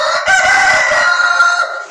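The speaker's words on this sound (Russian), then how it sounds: "И петух приехал к нам из Тольятти, городской блатной хлопец." A rooster crows inside a chicken coop, one loud, close, sustained cock-a-doodle-doo that fills the short moment with no talk over it.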